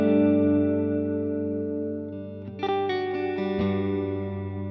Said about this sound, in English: And then throw some reverb on it,